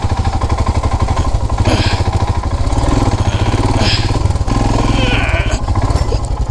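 A troubled motorcycle idles loudly and close in neutral with a rapid, even mechanical chug and clatter, while someone talks over it.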